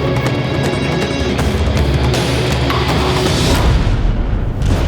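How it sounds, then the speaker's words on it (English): A ship's ammunition magazine detonates in a naval video game, a loud, sustained booming roar of explosion that fills the whole stretch before fading at the end. "Finally, the quickest way to sink a ship is to detonate her ammunition magazine."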